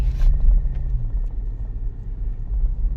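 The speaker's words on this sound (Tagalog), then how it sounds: "So, ngayon running na ang sasakyan." A Toyota Fortuner engine idles steadily in a repair shop, a low continuous rumble with a brief louder burst at the start and no talking.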